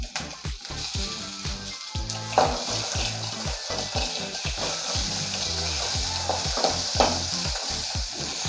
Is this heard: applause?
no